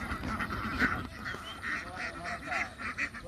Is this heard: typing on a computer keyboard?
no